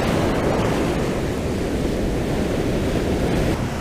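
Ocean surf crashes onto a beach shoreline during a surf perch fishing trip, a loud continuous roar of breaking waves mixed with wind buffeting the microphone, with no voices.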